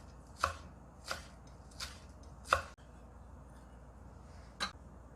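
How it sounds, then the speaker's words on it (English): A knife slices spring onion diagonally on a cutting board, giving five crisp, separate chops, four in quick even rhythm and one after a pause, close and clear on a quiet background. "diagonal slice, this spring onion we'll use for garnish."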